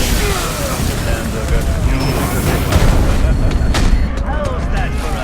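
Explosion in the Batman Arkham Origins video game, a loud booming blast amid continuous rumbling combat noise and gunfire-like crackles, with game dialogue around it.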